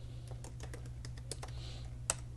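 Typing on a computer keyboard, a quick irregular run of close, light key clicks over a faint low hum, with one sharper tap near the end.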